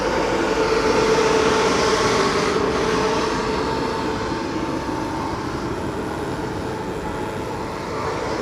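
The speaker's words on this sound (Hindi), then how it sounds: "फ़िलहाल आसानसोल से निकल रहा है हावड़ा राजेंद्र नगर एक्सप्रेस" Howrah Rajendranagar Express pulling out of Asansol behind an electric locomotive, a loud steady rumble of coaches rolling on track heard from on board, gradually easing a little.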